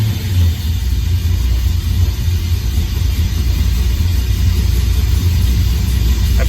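LS1 V8 car engine running after a cold start, a loud steady low rumble with a lumpy idle throb, close and alone.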